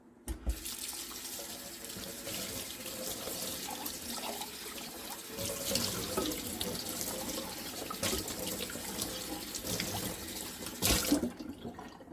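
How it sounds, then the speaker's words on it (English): A bowl rinsed under a running kitchen tap, washed with solid dish soap: a steady close stream of water splashing into a sink for about twelve seconds, with louder surges as the bowl is moved under the flow. "Now we're going to rinse."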